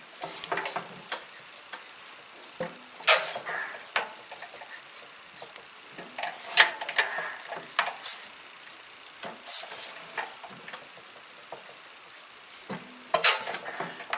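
The crankshaft of a 1920 International Type M engine being turned by hand while it is greased, giving a series of irregular wooden and metallic clicks and knocks, close and moderately loud, with no voices.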